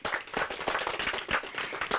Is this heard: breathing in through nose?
no